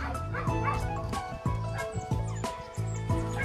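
A dog barks and yips in a run of short bursts, fairly close, with some whimpering between barks over steady background noise.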